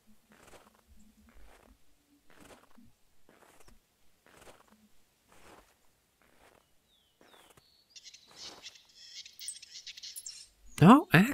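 A grouse in the hunting game theHunter: Classic gives repeated soft, evenly spaced calls in a quiet hillside setting, faint and distant, before louder rustling and clatter at the end.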